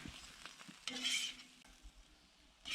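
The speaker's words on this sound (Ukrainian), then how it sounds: "І все це гарно перемішуємо." Georgian ojakhuri of meat and potatoes sizzles in a hot cauldron while a utensil stirs through it, with brief scraping strokes and a louder burst of frying midway.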